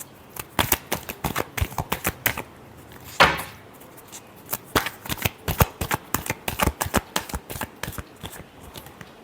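Tarot cards shuffled by hand in a steady run of crisp riffling snaps, with a brief louder rustle partway through; no talking.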